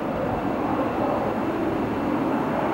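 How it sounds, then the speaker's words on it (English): Steady roar of a military jet passing over Fresno at night, a broad continuous rushing noise of even loudness with no clear rise or fall, heard at a distance outdoors. "I don't know what kind of military plane that is."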